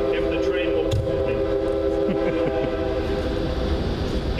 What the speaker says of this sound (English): If the train will permit me.